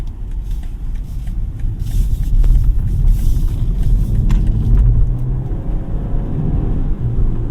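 A 2024 BMW 318i Business with a 2.0 engine accelerating in sport mode, heard from inside the cabin as a loud, continuous engine rumble that builds and holds under road noise.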